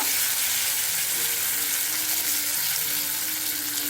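Chopped shallots sizzle in hot oil while cooking chow chow poriyal, a steady, bright frying hiss that continues unbroken and fairly loud throughout.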